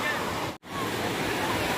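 Sea waves roll in at Mypadu beach near Nellore on a crowded Sunday, a loud, steady broadband wash of surf close by, broken by one brief dropout midway.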